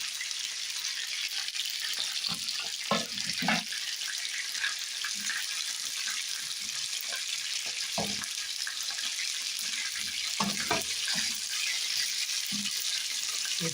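Garlic sizzles in hot oil in a frying pan while honey chicken wings are cooked, a steady crackling hiss broken by occasional clinks and stirring knocks.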